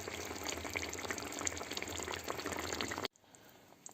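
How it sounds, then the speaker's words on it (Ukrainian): Ribs in a cream sauce stewing over low heat in a pan, giving a steady close bubbling sizzle that cuts off abruptly near the end, leaving a quiet room. "перемішуємо і 15 хвилин тушимо на такому маленькому вогні"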